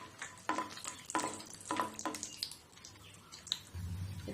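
Cashews fry in a little ghee heated in a pan while a spoon stirs, giving several soft scraping strokes over a faint low sizzle, quiet and close.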